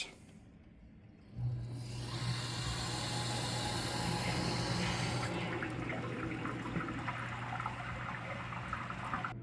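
Water rushes into a residential water heater tank as the supply valve is opened, a loud steady hiss and gurgle rising suddenly after a faint lead-in and holding on at close range.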